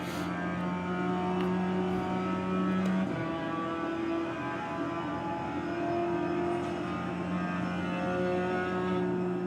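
A race car engine in the iRacing sim game gives a steady, humming drone that shifts pitch once partway through and then holds level, with no voices.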